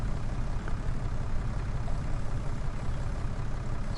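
A tractor engine idles in Farming Simulator 19 with an implement hitched on the back, a steady low mechanical drone holding constant throughout with no voices.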